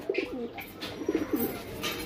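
Soft, low cooing from a mated pair of pigeons in two short rolling phrases, with faint higher chirps and light background noise.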